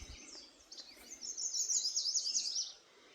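Robins and other wild birds chirp and sing outdoors on a farm, a dense run of bright calls swelling through the middle and fading near the end, with faint background rustle.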